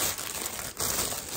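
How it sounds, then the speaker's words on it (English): Plastic packaging on a scented wax warmer crinkles and crackles close up during an unboxing, a brief, dense burst of rustling with a short dip in the middle. "sorry for the plastic noise"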